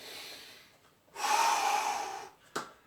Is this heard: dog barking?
no